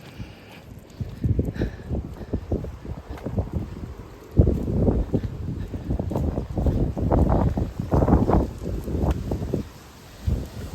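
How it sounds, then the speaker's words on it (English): Strong Storm Darragh wind gusts during a morning walk in Melbourn, England, buffet loudly in surging, rumbling waves that dip and swell again, with no talking. "maybe spoke too soon as the wind ramps itself back up again"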